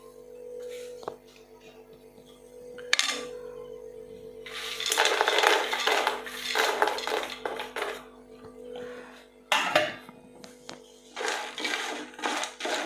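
Metal utensils clatter and scrape against a pot while fried banana pieces are stirred into thick jaggery syrup, in bursts of loud activity over a low steady hum.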